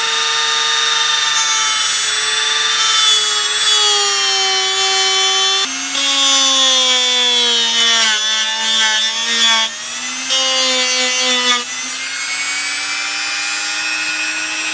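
A Dremel rotary tool carves into wood for a bass guitar body, a loud continuous high whine whose pitch shifts up and down as the speed changes and the bit bites, with no talking.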